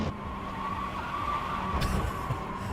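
In an iRacing sim race, a short burst of car tyre squeal rides a steady engine roar, ending with a brief hissy flare near the end. The sound is close and continuous, with no voices.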